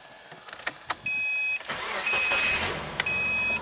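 Subaru engine cranking briefly and catching, then settling into a steady idle, with a few sharp clicks beforehand and a high electronic chime sounding twice.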